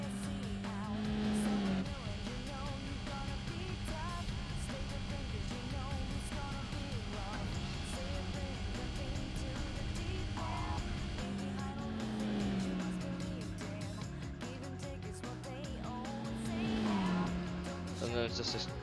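A Honda Jazz with a single-gear gearbox races in Gran Turismo 4, its engine droning steadily with whining pitch sweeps and brief tire squeals, loud and continuous throughout.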